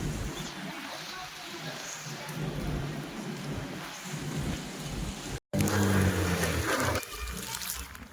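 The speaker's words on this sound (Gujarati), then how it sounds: "અહીંયા ફૂલ વરસાદ આવી ગયો છે" Heavy rain pouring down outdoors at a cricket ground, a steady wash of noise with low rumbles and faint voices, swelling louder in a sudden burst toward the end.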